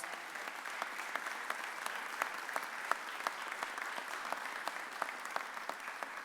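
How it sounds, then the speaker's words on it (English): Applause from an audience at a mayor's press conference, a steady moderate clapping with distinct individual claps standing out, heard from a little distance and continuing evenly throughout. "That's a round of applause."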